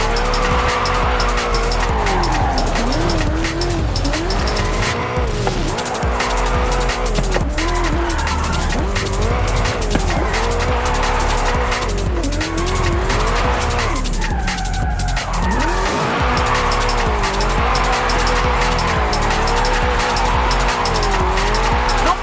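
A 2015 Mustang GT drifts downhill in Forza Horizon 5, its engine wailing and shifting pitch continuously as tires squeal through the corners. The sound is loud and unbroken, with no voices.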